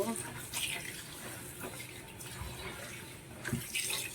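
Coriander leaves are rinsed under a running tap in a home kitchen, with a steady gush of water and a few splashy bursts and drips. A faint voice sits low in the background.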